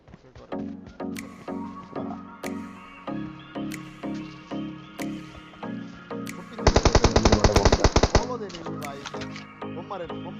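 In PUBG Mobile, gunfire starts as evenly paced single shots about twice a second, then breaks into a rapid automatic burst before the single shots resume, with voices talking over it.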